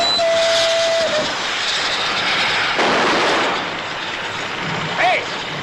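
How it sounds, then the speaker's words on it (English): A short steam whistle tone at the start gives way to a loud rushing hiss of steam, with a brief vocal sound near the end. "Sound the whistle."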